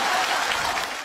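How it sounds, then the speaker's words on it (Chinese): Applause from a small group, a brief dense burst of clapping that carries on steadily for about a second, close and fairly loud. "爸给你鼓鼓掌行不行"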